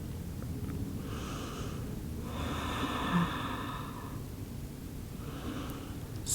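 Slow breathing during a beginner yoga session in child's pose, forehead on the floor, with three long soft breaths spread across a quiet room with steady background hiss.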